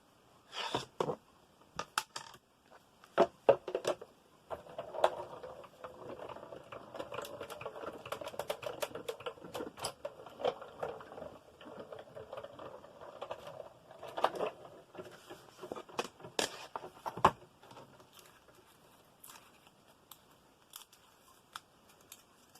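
A die-cutting machine cutting paper tree shapes from a taped die set, giving a steady grinding, crunching pass broken by sharp clicks and taps, moderately close with no talk.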